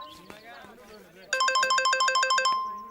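A phone ringtone trills in a rapid, evenly repeating electronic pattern, loud and close, starting after a moment of quiet movement.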